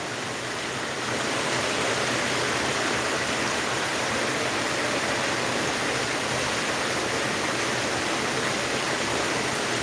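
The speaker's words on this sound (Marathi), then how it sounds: "जोरदार पाऊस आहे जोरदार" Heavy monsoon rain in Latur pours down in a broad, unbroken roaring hiss, close and loud, with no voices.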